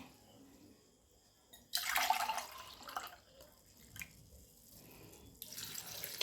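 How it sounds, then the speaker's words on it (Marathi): Water from a glass is poured into a pot of toor dal, a splashing pour that begins suddenly partway through, eases off, then picks up again near the end, loud and close. "बघा आता मी याच्यामध्ये 2 ग्लास पाणी टाकते।"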